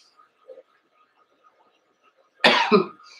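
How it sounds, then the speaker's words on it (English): A single short, harsh cough up close, preceded by near silence with a few faint small noises. "instead I'm just like coughing"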